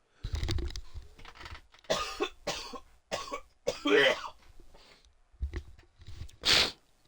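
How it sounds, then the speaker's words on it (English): Several sharp coughs in separate bursts, close to the microphone, with short quiet gaps between them and no talking. "Y'all hear me cough"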